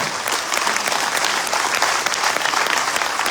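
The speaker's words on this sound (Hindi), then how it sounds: "तो एक जबरदस्त ताली अपने लिए कि आप आज यहाँ पर इस हॉल के अंदर है," An audience in a hall claps loudly and continuously at a motivational presentation, a dense, even wash of applause with no talk over it.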